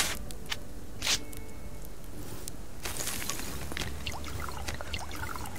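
Water is poured and collected in the survival game Subsistence, a steady trickling pour with brief clicks and splashes, no talking.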